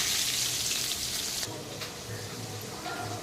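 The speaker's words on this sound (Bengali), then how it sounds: "এখন মাছটাকে আমি ভেজে নেব।" Rohu fish fries in hot oil with a loud, crackling sizzle that drops to a softer, steady bubbling partway through, with a scrape or two of handling.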